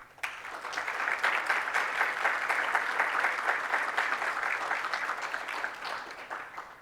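An audience at a public panel discussion on the 2023 Ecuador elections in Guayaquil breaks into sustained clapping, swelling quickly, holding steady for several seconds, then tapering off at the end.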